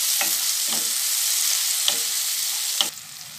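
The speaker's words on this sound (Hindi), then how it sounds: "अब मैं इसमें टमाटर जो छोटे छोटे डाइस किए थे वो डाल दूंगी" Small diced tomatoes frying in a pan for Singapuri fried rice, a steady loud hiss of sizzling with a few light spoon scrapes, easing slightly at the end, with no one speaking.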